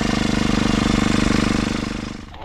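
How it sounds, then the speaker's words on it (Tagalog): A grass cutter's small engine running loud and close with a rapid, even chugging pulse that holds steady, then begins to slow and fade just before the end. "Ayun, ulit natin yung ating grass cutter."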